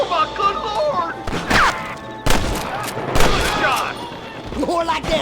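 Gunfire in the Western video game Red Dead Redemption rings out in several sharp, separate shots spread over a few seconds, loud and close, mixed with game voices and ambience.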